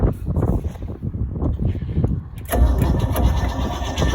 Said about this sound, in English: And it keeps on cranking with the key out.